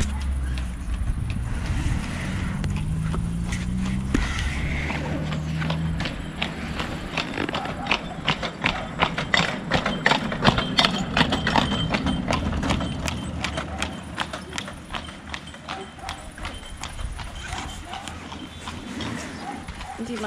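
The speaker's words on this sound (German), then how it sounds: "Kommt gerade wieder eine Kutsche." Hooves of a horse pulling a carriage clip-clop along a road in the Romanian Carpathians, a rhythmic run of hoofbeats growing louder as it passes close by, with a dog barking and someone speaking German.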